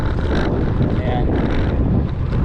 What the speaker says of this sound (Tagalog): mahirap lang bumadyak, headwind, salubong yung hangin, kinokontra yung takbo natin.